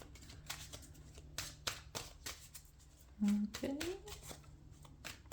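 Hollywood Tarot Deck cards are shuffled and picked, with a steady series of soft, close card flicks and slaps over about five seconds. A voice speaks briefly among them.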